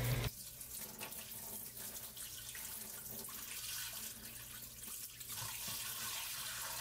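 Liquid left over from growing potassium nitrate crystals is poured off into a sink drain, a steady splashing water rush running close and continuous without talk.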